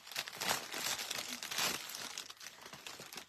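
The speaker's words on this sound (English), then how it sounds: "so we're going to take some Spanish moss" Dry Spanish moss is pulled apart and handled for a craft project, giving continuous close crinkling and crackling rustles with a few louder bursts and no speech.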